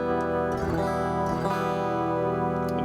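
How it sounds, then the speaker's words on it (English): Electric guitar played through magnetic pickups with light compression and reverb, sustained harmonic chords ringing steadily with a couple of fresh strums, close and clear with no talking. "So the magnetics sound like this."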